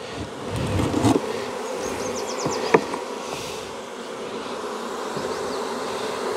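Honey bees buzz around an open hive full of brood in a beekeeper's yard, a continuous hum with individual bees droning close by, plus a few sharp knocks and clicks and no talking.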